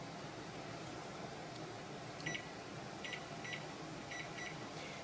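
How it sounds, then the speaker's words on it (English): Kitchen timer gives a few short, high, faint beeps in pairs over steady background hum, set while boiling water for dill pickles. "we're going to set our timer"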